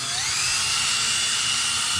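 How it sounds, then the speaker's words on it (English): A power drill steadily spins a soft bristle brush while scrubbing a car's interior seat belt, producing a loud, continuous high-pitched whine close by, with no talk over it. "I have my soft bristle brush on my drill"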